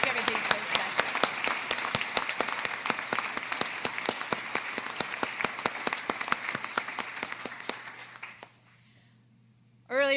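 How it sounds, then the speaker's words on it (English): An audience applauds at a Naval Reactors change of command ceremony in 2024. Dense, sustained clapping from a large crowd carries for about eight seconds, fades out, and then a voice begins speaking at the end. "So if we could all give another round of applause for these professionals,"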